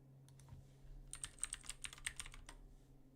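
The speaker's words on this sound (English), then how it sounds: "I'll type it in the chat." Typing on a computer keyboard, a quick run of close, crisp key clicks with uneven rhythm that starts after a short pause and continues for about a second and a half, with no talk.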